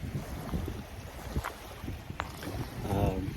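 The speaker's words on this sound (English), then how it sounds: "And the wind is just a-coming." Wind gusts buffet the microphone by the shore near an oyster factory, rumbling unevenly with brief knocks and a swell of noise toward the end.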